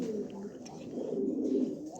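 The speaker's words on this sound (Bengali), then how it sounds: "এখানে একটা কবুতর এটা হচ্ছে সরাসরি বাইরের একটা কবুতর" A single imported pigeon gives a brief, close, low cooing call lasting about two seconds, with no other sound.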